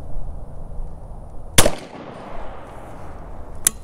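Gunshot fired at a target during a turkey shoot outdoors, one sharp loud report with a short echo decay, then a fainter second crack a couple of seconds later.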